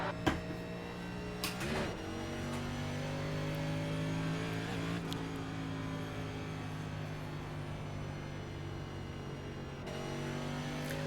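NASCAR stock cars in the iRacing sim drone steadily behind the pace car at Atlanta, their engines holding a sustained hum with layered tones. Faint clicks and a few knocks sit over the engine noise, and nobody is talking.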